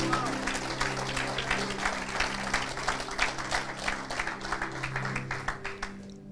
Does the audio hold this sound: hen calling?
no